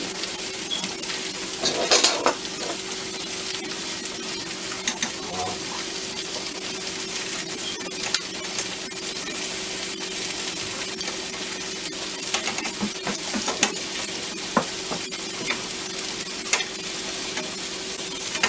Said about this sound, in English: we got both pans filled and we are just flipping them as they brown